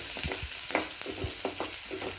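Onions and dried red chillies sauté in oil with mustard seeds in a pan, a steady close sizzle broken by repeated scraping stirs at a quick, uneven rhythm.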